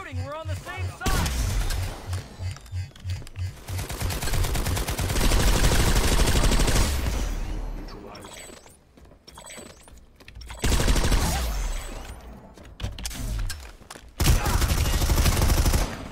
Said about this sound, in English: Stop shooting, we're on the same side.